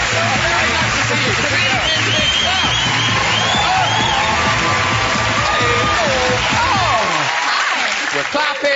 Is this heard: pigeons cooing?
no